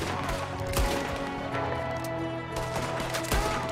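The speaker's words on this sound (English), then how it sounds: "That's some shooting right there." Gunfire from Red Dead Redemption 2 during a snowstorm mission, a few sharp shots cracking over a steady background of game music and wind-like noise, fairly loud with no talking.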